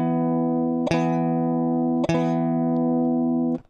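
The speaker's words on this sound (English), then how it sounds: "I'm gonna strum the fifth string and the fourth string" A guitar power chord on the fifth and fourth strings is struck three times, each strum ringing out clearly and sustaining alone until the next.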